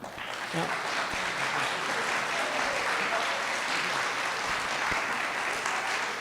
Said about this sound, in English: can we please give one more round of applause to the candidates?